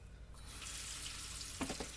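Kitchen sink tap running while dishes are rinsed at home, a steady hiss of water filling the basin, with a few brief splashes and clinks near the end.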